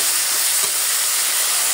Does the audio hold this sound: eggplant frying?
yes